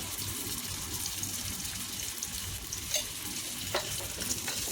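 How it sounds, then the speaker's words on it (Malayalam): Ginger garlic paste frying in oil in a pan while preparing Kuwaiti chicken majboos, a loud continuous hiss and sizzle with occasional stirring scrapes, close up and without talk. "അതിനുശേഷം ഇഞ്ചി വെളുത്തുള്ളി പേസ്റ്റ് ഇട്ട് കൊടുക്കാവേ"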